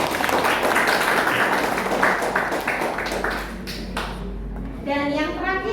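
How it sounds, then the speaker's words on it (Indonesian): Students applaud in a classroom, a dense patter of clapping that thins out and fades toward the end, with children's voices mixed in. "Kasih tepuk tangan."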